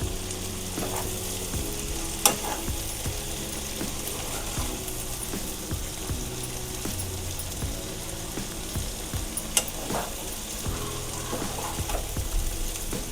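Cluster beans stir-fried dry in a pan on full gas heat, with a steady sizzle under repeated scraping and clattering strokes of the spatula, loud and close with no talking.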